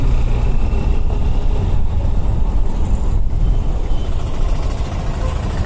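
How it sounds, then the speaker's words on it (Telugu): Dense idling engines of cars, buses and trucks in a stalled traffic jam on a road trip from Hyderabad to Alampur and Kurnool, a steady low rumble throughout. "ఈ ట్రాఫిక్ జామ్ చూసిన ఎట్టుందో."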